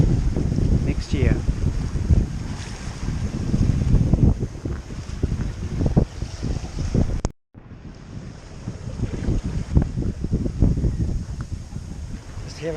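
Sailboat running downwind with the wind dead astern along the coast, heavy wind rush and wave wash around the hull, loud and continuous apart from a brief dropout.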